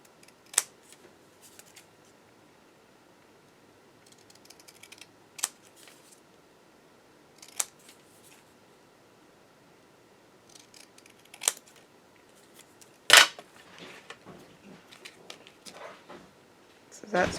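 Scissors snip through card stock while trimming a handmade Christmas card: a handful of sharp, isolated cuts spaced a few seconds apart in a quiet room, with soft paper handling in between.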